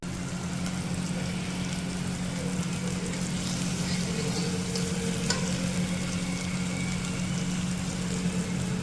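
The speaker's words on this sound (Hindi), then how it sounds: "अभी हमने छौंक दिया।" Steady, dense sizzling of spices tempering in hot oil for a chutney, continuous and close, with a faint clink partway through.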